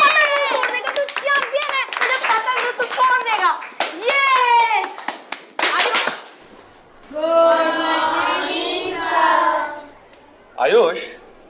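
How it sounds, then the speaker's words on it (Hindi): Children clap during an online class meeting, short bursts of hand claps mixed with a child's excited chatter and shouts, the voices dominating between the claps. "आयुष, तालियां बहुत हो गई"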